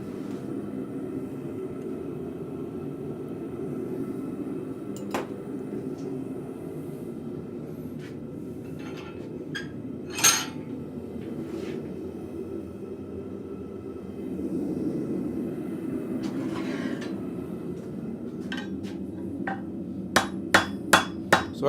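A blacksmith hammers an arrowhead shoulder on the horn of an anvil, sharp metallic strikes ringing out sporadically over a low forge rumble, ending with a quick cluster of several blows.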